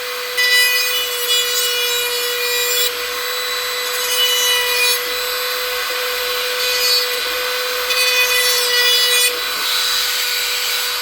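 Rasping scrape of a tool deburring and smoothing the edge of a kydex sheath, steady repeated strokes close up, loud and continuous with no talking.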